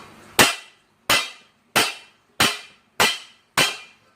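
Six loud, sharp metallic knocks from hammering a bent SYM VF3i motorcycle rim, evenly spaced about half a second to a second apart, each ringing briefly and close by with no talk.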